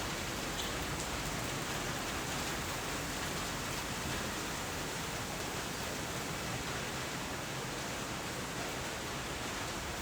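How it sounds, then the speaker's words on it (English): Steady, dense rain falling outdoors at a pioneer museum in Florida, a continuous even hiss with no breaks and no voices. "We're gonna wait a little bit until this little bit of rain passes over"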